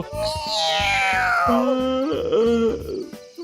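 A cat gives a few drawn-out, wavering meows that slide downward in pitch, close and fairly loud over a quiet room.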